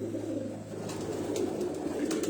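Pigeons cooing softly on a rooftop loft in low, repeated throaty calls over a steady background hum, with faint chirps near the end.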